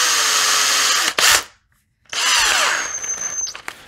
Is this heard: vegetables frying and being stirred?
no